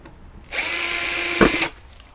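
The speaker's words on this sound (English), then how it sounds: "they put a little plate on the drill bit to catch" A power drill fitted with a small plate on its bit to catch debris runs at steady high speed for just over a second, loud and close, with a brief thud partway through before it stops.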